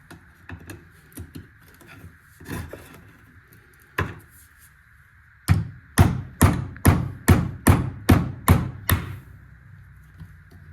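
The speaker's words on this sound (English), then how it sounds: "Flathead screwdriver works best for the job here." A flathead screwdriver pries and hammers at a stuck part on the firewall of a 1979 Volare wagon: a few scattered knocks, then a rapid run of about ten sharp metallic taps, close and loud.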